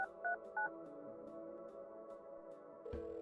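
Telephone keypad tones dial a numeric pager in the adventure game Kathy Rain 2: a few short, loud two-tone DTMF beeps in quick succession over a steady electronic hum, followed by a sudden low thump.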